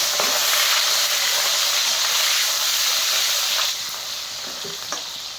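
Paneer fries in hot oil with a dense, close crackling sizzle that stays strong, easing slightly partway through before continuing at a softer, steady level with scattered pops.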